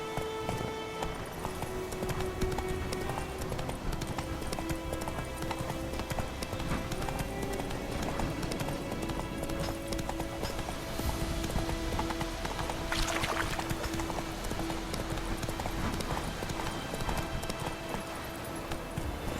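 The horse Roach galloping in The Witcher 3, a continuous rapid clip-clop of hooves with a faint background score and brief game sounds.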